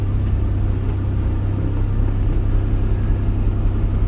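Iveco truck with a 6-speed manual gearbox driving, a steady low engine rumble heard from inside the cab, even and continuous with no clear shifts or revving.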